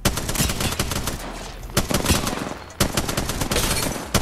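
Rapid, loud gunfire in the battle royale game Apex Legends: close bursts of automatic shots with brief pauses between volleys.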